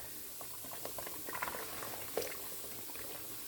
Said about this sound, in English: So, okay, so the brine has come back to boil.